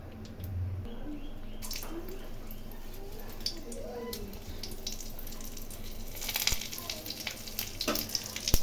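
Dried red chilli, bay leaf and cumin fry in hot oil for a Bengali cabbage curry, giving a faint, steady hiss and crackle that grows a little busier toward the end.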